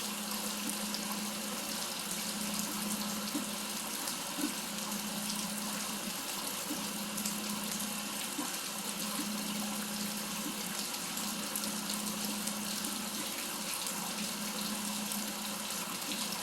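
Monsoon rain falls on the yard of a country house as an unbroken, even wash of water noise that holds steady throughout, with no voices.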